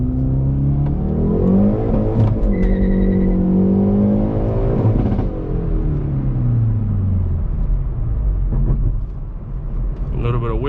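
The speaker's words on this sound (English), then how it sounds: "the engine is fully warmed up now, so let's do a pull here," A 2020 Hyundai Veloster N Performance Package engine revs hard under a full-throttle pull in first gear, loud and close with rising pitch, then easing with brief wheel spin, while someone talks over it.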